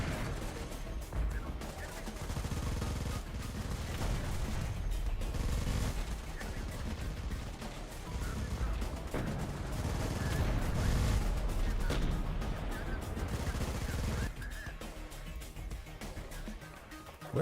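Sustained heavy gunfire and machine-gun bursts from battle guns in the Terminator Dark Fate Defiance strategy game, loud and continuous over a low rumble, easing off near the end.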